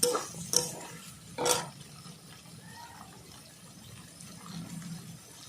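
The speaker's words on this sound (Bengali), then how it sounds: "সেটা ভালো করে একসঙ্গে নাড়িয়ে নেব" Chui stalks are stirred with Foloi fish curry in a pan: a few sharp scrapes and clanks of the spoon early on, then a quieter wet simmering shuffle, with no talk.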